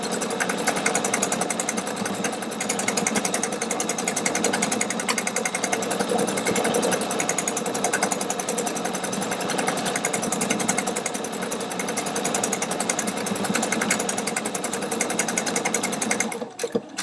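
A Pfaff Quilt Expression 720 sewing machine stitches fabric with a steady, rapid mechanical whir and needle chatter, running continuously and close up before stopping abruptly at the end.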